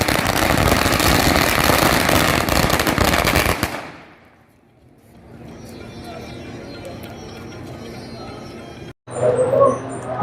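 A string of firecrackers goes off in front of gate number 1 of the Hazur Sahib gurdwara, a dense loud crackle lasting several seconds before cutting off to quieter outdoor crowd ambience.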